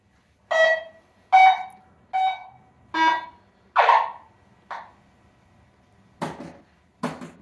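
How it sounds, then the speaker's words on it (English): A Stern Wild Fyre pinball machine gives boot-up beeps: six electronic beeps in a steady sequence, each a short tonal chirp with clear gaps, followed by two harsher, noisier blips near the end. "So we got 5 beeps."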